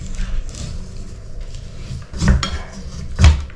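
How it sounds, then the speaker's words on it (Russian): A plate taken out of a freezer, with soft rustling and shuffling followed by two distinct clattering knocks of dishware, close and fairly loud. "Достаем из морозилки тарелку."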